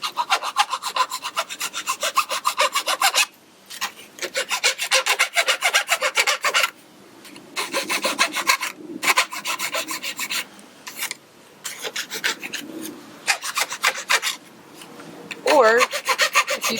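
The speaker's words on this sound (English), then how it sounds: "So then I have a mill file." A mill file rasps back and forth across an aluminum patch for an Airstream trailer, in steady rhythmic strokes with brief pauses between runs, close and clear.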